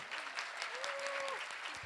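Applause from a church audience fills the clip, steady clapping with a voice briefly rising over it.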